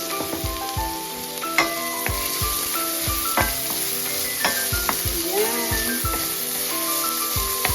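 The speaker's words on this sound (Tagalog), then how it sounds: "Sutay natin yung bawang, sibuyas" Chopped garlic and onion sauté in oil in a pan with a loud, continuous sizzle, punctuated by repeated sharp scrapes and clicks of a utensil stirring at close range.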